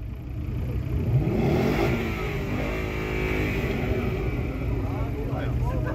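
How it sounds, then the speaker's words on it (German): A car's engine revving at full throttle at a car meet in Meppen, a loud sustained close roar that holds steady for several seconds, with people talking over it. "Vollgas, Fuß in die Ölwanne."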